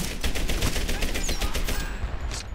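Rapid bursts of automatic gunfire from hip-firing in Medal of Honor Airborne, loud and close, with sharp repeated shots over about two seconds and game ambience behind.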